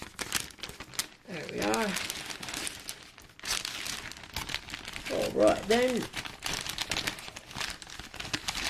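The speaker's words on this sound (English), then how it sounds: "So go ahead and remove that tape, take out the keyboard." Tape is peeled and torn off the packaging of a SteelSeries Shift keyboard, with rustling and crinkling across the clip under intermittent talk.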